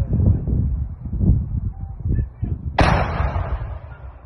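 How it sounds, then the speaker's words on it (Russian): A single heavy artillery blast booms sharply partway through, following low rumbling and wind noise outdoors, with a voice speaking before the shot. "3 снаряда, беглый огонь."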